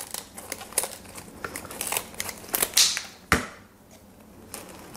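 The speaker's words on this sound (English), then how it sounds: "So you can just continue with the scissors and just snip those points off." Scissors snipping the pointed tips off artichoke leaves for Italian-style stuffed artichokes, a series of sharp close crisp cuts and leafy crinkles in uneven rhythm, with one louder snap near the end and no talking.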